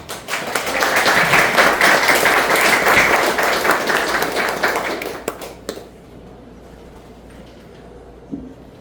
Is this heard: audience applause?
yes